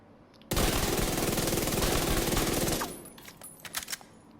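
Rapid automatic gunfire from The Division 2 video game, a loud dense burst lasting about two seconds, followed by scattered hit and impact sounds as it fades.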